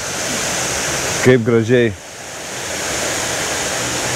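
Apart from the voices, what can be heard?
babbling stream water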